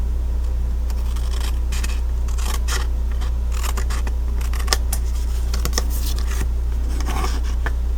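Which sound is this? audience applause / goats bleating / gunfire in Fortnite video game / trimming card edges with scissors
trimming card edges with scissors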